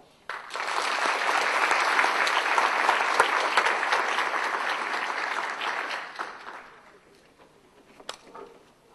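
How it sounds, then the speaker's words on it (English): A conference hall audience gives a loud, dense round of applause that starts abruptly, holds steady for several seconds, then fades away into near quiet with a stray clap or two. "Please join me by giving them a round of applause."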